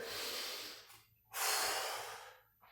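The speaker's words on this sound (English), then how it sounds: "nice deep breaths in" Deep breathing after a kickboxing workout round, two long close exhales with airy rushes and a quick intake between them, no talking.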